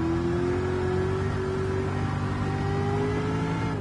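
An American muscle car's engine drones loudly in Gran Turismo 7 racing, a steady, close, sustained roar with a slowly rising pitch as it accelerates, then easing slightly near the end, with no voices.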